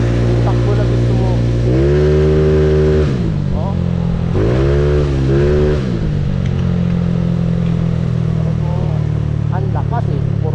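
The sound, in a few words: motorcycle engine revving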